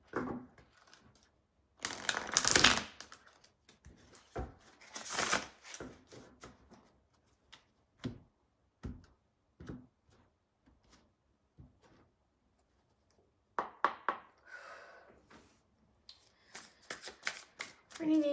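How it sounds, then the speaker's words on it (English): Bursts of card shuffling, two loud riffles early then quieter handling, flicks and taps with pauses; a voice speaks briefly now and then. "One more shuffle."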